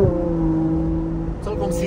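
A Ferrari 812 GTS V12 engine hums with a steady tonal drone from inside the cabin, someone talking over it briefly near the end.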